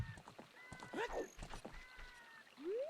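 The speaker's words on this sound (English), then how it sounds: "Ketchup calling the horse here" A horse neighs in a Zelda video game after being called, a short whinny amid game sound effects and tones, with someone talking over it.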